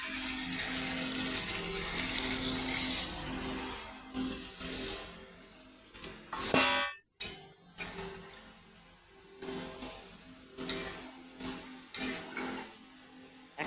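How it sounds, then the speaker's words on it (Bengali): Water is poured into a pan of spiced potatoes for a Bengali boal fish curry, making a close, rushing pour that fades into lighter splashes and kitchen clatter, with no talk. "এখন পরিমাণ মতন জল দিয়ে দেবো।"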